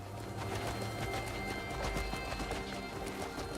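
Horse hooves clip-clop at a steady gallop across open desert in the Crimson Desert game, rhythmic and close, with a brief whinny and a bed of game ambience and music throughout.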